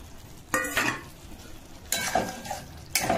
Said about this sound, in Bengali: আর ভাজা আলুগুলো দিয়ে আবার কষবো।